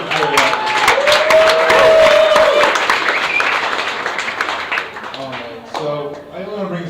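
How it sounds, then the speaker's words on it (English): A conference crowd at a 2013 Startup Weekend Ogden final-pitch event claps for the organizers in a dense burst with a few cheers, which fades over several seconds as a presenter's voice takes over near the end. "a round of applause for Alex and the rest of the organizers"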